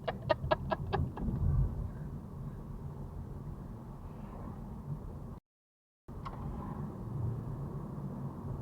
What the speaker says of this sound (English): Fuck off, bird.